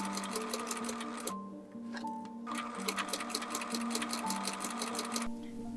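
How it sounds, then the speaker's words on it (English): A sewing machine set to a short stitch length runs two rows of stitches along the edge of a doll-overalls pocket, its rapid needle chatter loud and close, with one brief pause before it resumes. "Now I'm going to run 2 rows of stitches along the edge of this pocket"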